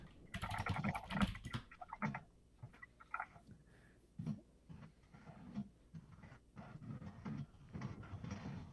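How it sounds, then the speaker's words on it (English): Loud computer keyboard typing up close, with rapid clattering bursts of keystrokes and short pauses running throughout. "My keyboard's very loud, just a warning."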